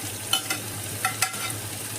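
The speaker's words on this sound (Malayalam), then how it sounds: "വെളിച്ചെണ്ണ ചൂടായി വരുമ്പോഴത്തേക്ക് അതിലേക്ക് 2 മീഡിയം ടൈപ്പ് സവാള സ്ലൈസ് ചെയ്തത്" Two medium sliced onions and green chilies frying in hot coconut oil for a mutton stew, giving a steady soft sizzle with a few light stirring scrapes, close and alone.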